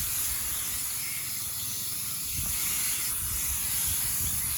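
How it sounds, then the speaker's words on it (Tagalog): A power sprayer mists eggplant and bitter gourd plants in a vegetable garden, a steady loud hiss running unbroken throughout with no talk. "so ang kaganda ng power spray mga kagulay oh yan. Mabilis lang mag-spray."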